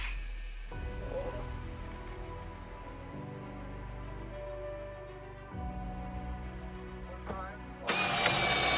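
A reciprocating saw cuts off screw tips on a wooden boat build, producing a close, droning tool whine that shifts pitch in several stretches before a brief louder burst at the end.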